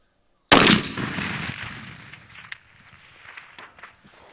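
A single loud 300 PRC rifle shot fired at a long-range target about 784 yards away, a sharp blast followed by a long rolling echo that fades over several seconds, with a few faint thumps afterward.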